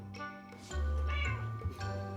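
A house cat meows in a home kitchen, a few drawn-out, wavering meows close by that run together over about two seconds, with no talking.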